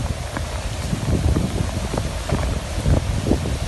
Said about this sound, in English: The wind is really picking up now.